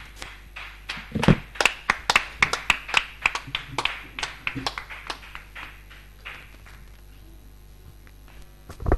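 A church congregation claps in rhythmic unison, sharp close hand claps that thin out and fade after several seconds, with some voices faintly present underneath.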